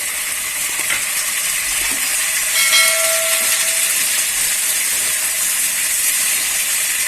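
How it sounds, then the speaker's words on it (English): Tomatoes go into frying onions in a pan, setting off a steady, loud steamy hiss that keeps going throughout, with a faint brief whistle-like tone partway and no speech. "The onion is slightly ready and I'm going to add some tomatoes."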